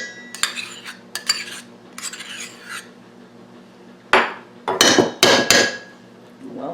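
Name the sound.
spoon scooping sour cream out of a container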